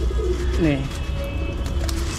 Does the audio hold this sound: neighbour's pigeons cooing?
yes